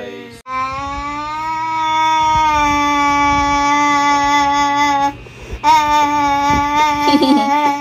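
A child imitates an ambulance siren, holding a long, wavering wail, pausing briefly before starting again, close and loud.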